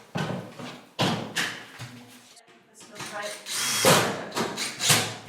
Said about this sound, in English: Start the screws on here first.